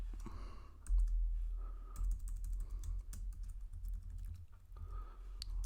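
Typing on a computer keyboard while writing JavaScript code: a quick, uneven run of close, quiet key clicks with short pauses, over a faint low background hum.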